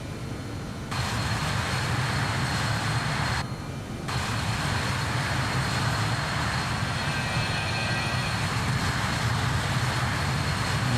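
Airliner takeoff and climb in Microsoft Flight Simulator 2024, a loud, steady broadband engine roar that holds throughout with a brief dip, no talk over it.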